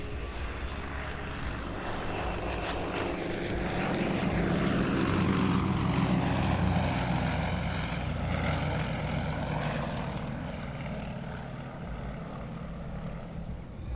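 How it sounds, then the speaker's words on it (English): Propeller aircraft of the Yak Stars, Portugal's formation aerobatic team, flying a display at the Portugal Air Summit 2018 airshow; a loud, sustained engine drone swells through the middle and eases off toward the end. "here is another, Portugal's sole formation aerobatic team at the moment, the Yak Stars"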